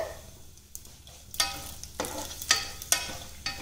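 Cloves and green chillies frying in a pan for vegetable pulao: a soft sizzle with a few sharp spatula scrapes and taps coming in bursts, fairly close and quiet, no talking.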